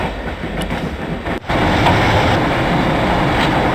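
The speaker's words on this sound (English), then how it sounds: "I'm going to climb on top of the train." A train runs on rails in the Broken Sword: Shadow of the Templars game, its continuous rumbling clatter loud and close, with a brief dip before it rolls on steadily.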